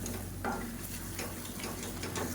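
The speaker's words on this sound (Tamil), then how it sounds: "மறுபடியும் நல்லா ஒரு கிளறிட்டு திருப்பி மூடி வச்சிடலாம்." Onion thokku fries in a pan and is stirred, with soft scraping strokes spread over a low, steady sizzle. It is faint and close, and nobody speaks.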